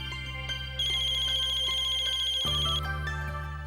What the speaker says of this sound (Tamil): இதோ உங்க வீட்ல இருந்தா ஃபோன் பண்றாங்க.